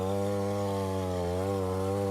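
A chainsaw runs at a steady high pitch, droning loud and close with a buzzing harmonic whine and a slight dip in pitch midway as it bites into the thick wall of a giant prize-winning pumpkin at a pumpkin show.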